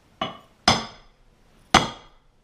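A flat tool taps a washer into place on a 2016 Motoped Pro 125cc, three sharp, close metallic knocks, the last two louder, with quiet between them.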